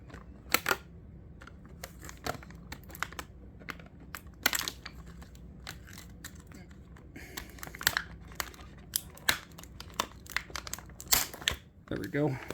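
Small scissors snip through paper twist ties holding toy turtle figures in their packaging, giving quiet, irregular cuts and crinkles mixed with plastic rustling, with a person talking throughout.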